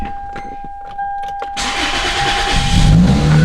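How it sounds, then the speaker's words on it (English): A Toyota Celica GT-S Turbo with a freshly installed alternator cranks and catches after a few quiet ticks and a steady electronic tone, then settles into a loud, rough idle nearby with a low rumble building. "Let's see if the car turns off and starts again."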